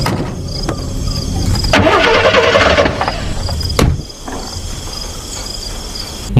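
A sabotaged car's engine cranks in a tense horror scene, a loud grinding whir rising for a second or so and then cutting out, with a steady insect-like hum and background noise throughout.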